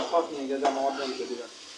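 Noodles with meat and egg fry in a pan, giving a steady sizzle broken by quick spatula stirs and clinks, close and fairly loud, with brief voices murmuring underneath.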